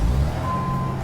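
An American Truck Simulator truck backing up, with a steady electronic reversing beep sounding over the low rumble of the idling engine.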